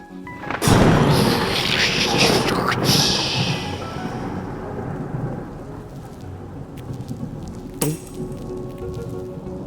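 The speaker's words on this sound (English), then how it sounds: "lightning begins to crackle in the clouds above and travel down those bonds" Stormy weather over water, with heavy rain hissing throughout and a loud thunderclap that breaks early and rumbles away, then a second sharp crackle of lightning later, close and powerful.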